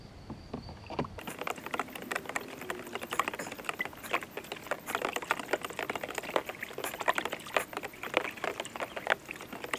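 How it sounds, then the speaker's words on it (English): Liquid nutrient solution for a Kratky hydroponic Sugar Baby watermelon being stirred, a steady wet swishing and light tapping against the container, continuous and close with no talk. "now we're going to give that a stir"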